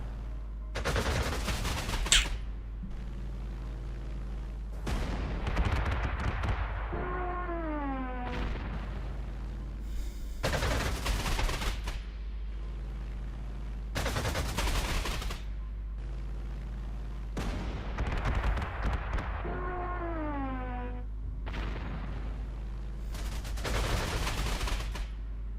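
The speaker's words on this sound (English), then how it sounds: "those artillery blasts are fine" Artillery blasts in Panzer Corps 2, a WWII strategy game, arriving as repeated loud booming bursts spaced a few seconds apart, some followed by falling whistle-like tones, with no voices over them.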